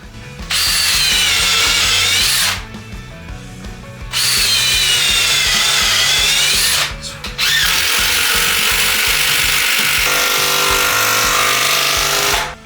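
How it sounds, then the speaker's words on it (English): An impact driver sinks large timber decking screws into wood, three loud sustained whirring, rattling runs separated by short pauses, close up with no voices. "I know impact drivers are noisy and horrible really, but you wouldn't have done that with a normal drill."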